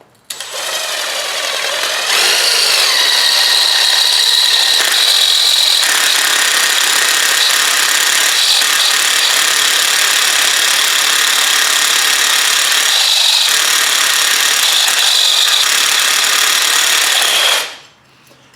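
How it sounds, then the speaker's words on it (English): A drill with a 3/8 inch bit bores into a steel side-mirror bracket on a 1995 Ford F350 pickup, a loud, steady high whine for about fifteen seconds that stops abruptly. "I'm going to go ahead and drill that now."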